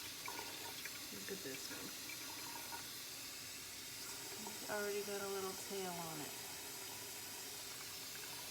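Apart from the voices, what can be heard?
tap water filling a container of lentils for sprouting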